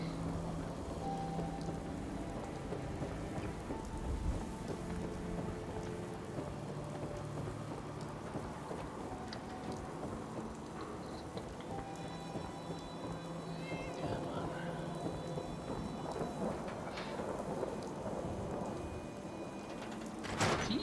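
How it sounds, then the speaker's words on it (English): Steady, dense rain hisses throughout in Fallout 4, with a low rumble of thunder rolling in and out beneath it. "Let's get out of the rain."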